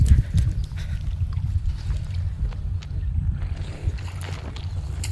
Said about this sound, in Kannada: ಅಲ್ಲಿ ದೋಣಿಲಿ ಮೀನು ಹಿಡಿತಾ ಇದ್ದಾರೆ.